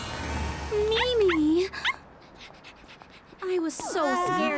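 A cartoon puppy gives high, wavering whimpers and yelps in short bursts, with a quieter gap in the middle before another round of whines, alongside background music.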